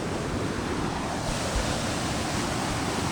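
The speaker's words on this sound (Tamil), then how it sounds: "நான் ஒரு தண்ணி சவுண்டு மாதிரி கேட்டுட்ருக்கோம்." Rushing water at Kaigal Falls makes a continuous dense broadband roar, steady and moderately loud, heard from nearby outdoors with some wind buffeting and no speech.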